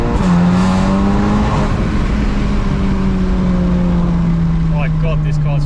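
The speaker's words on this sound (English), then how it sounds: "now if you punch it, it's very brisk." A stage 3 tuned VW Mk8 Golf R accelerates hard, its engine note rising and holding loud and close from inside the car, with a faint voice underneath.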